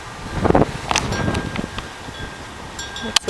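Strong outdoor wind buffets the microphone in low rumbling gusts, heaviest at the start, with brief chirps and small rustles scattered through.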